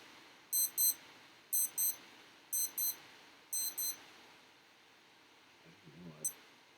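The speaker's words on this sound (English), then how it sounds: "Why is that beeping?" Four paired electronic alarm beeps repeat at a steady interval, crisp and high, in a quiet room with a brief bit of handling noise and a single beep at the end.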